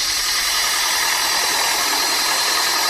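A loud, steady engine drone presented as a David Brown tractor hums continuously with a dense, buzzing, mechanical tone, heard alone without speech.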